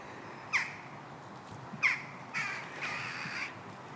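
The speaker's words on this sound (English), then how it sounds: "So that was two jackdaws and two magpies that flew over." Two jackdaws and two magpies fly overhead near a wooded park edge in Hampshire, UK, giving several sharp, fairly close harsh calls: two single calls, then a longer rattling run of chatter over quiet background.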